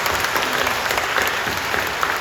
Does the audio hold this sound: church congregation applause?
yes